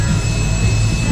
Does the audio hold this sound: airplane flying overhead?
yes